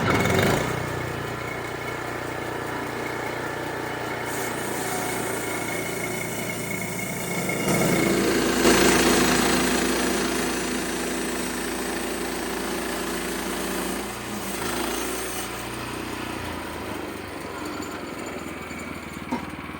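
A Wood-Mizer LX-25 sawmill slices an 18-inch white ash log into 1-inch boards, a steady engine drone running throughout with the blade's bite swelling louder midway through the cut, then easing off near the end.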